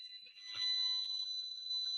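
Handheld RF radiation meter reading a cell tower signal, a faint steady high-pitched electronic tone that holds continuously for two seconds, with a soft bump of handling noise partway through and no talk.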